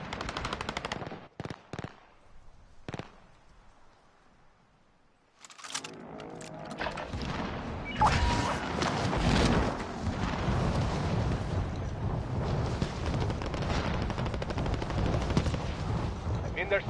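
Call of Duty Warzone gunfire: a few sharp isolated shots, a quiet gap, then sustained heavy machine-gun fire and explosions roaring continuously, loud and close, with voices talking underneath.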